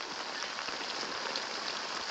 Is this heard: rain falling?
yes